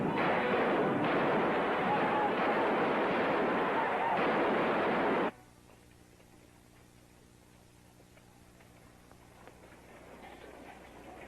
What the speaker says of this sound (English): There's a lot of shooting over to the west, Captain.